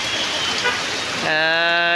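Steady rain hisses on a street in Jashore, then a vehicle horn blares loudly and holds for the last moments.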